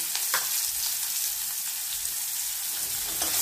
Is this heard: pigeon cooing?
no